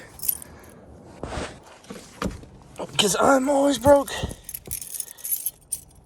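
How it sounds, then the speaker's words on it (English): Cadillac car keys jangle in a brief, close metallic jingle around the middle of the clip, while someone talks before and after. "Well, that's not even the right keys. My Cadillac keys."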